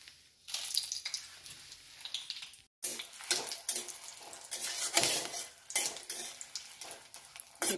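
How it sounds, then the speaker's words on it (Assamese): Green chillies fry in oil in a wok, producing bursts of sizzling and spattering mixed with scraping and clinks of a utensil against the pan, with a short silent gap early on. "জলকীয়া ভাজি হৈ গৈছে"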